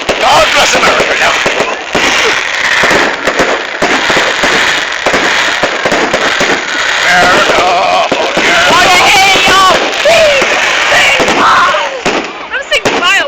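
Fireworks display with a dense, rapid crackle of bursts and pops for a sustained stretch, loud and close, with people's voices and cheering mixed in throughout.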